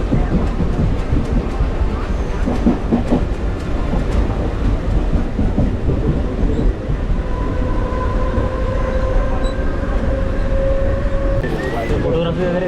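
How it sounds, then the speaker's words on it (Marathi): A Mumbai local train runs along the tracks near Dadar with a loud, steady rumble and rattle from inside the carriage, occasional clicks of the rails and a rising whine near the end. "बघू आता कुठपर्यंत आपली ट्रेन आली दादरवरची"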